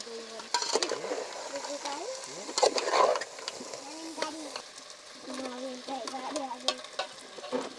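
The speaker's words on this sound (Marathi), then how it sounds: "आता खेकडी टाकूया तर पैकी परतून घेऊया मसाल्यामध्ये" Crabs stir-fried in masala and oil in a pan over a wood-fired stove, with a steady close sizzle and scraping stirs, plus faint bird calls nearby.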